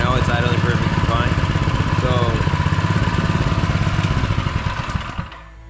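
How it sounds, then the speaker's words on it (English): A small engine idles steadily after its carburetor was cleaned, a loud close rhythmic putter with a clattering mechanical edge that runs evenly, then dies away at the end. "right now it's idling perfectly fine"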